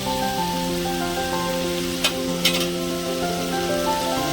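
Chicken and cucumber curry frying in a pan gives a continuous loud sizzle, while a constant tonal hum runs underneath and two short metallic stirring scrapes come just past the halfway point.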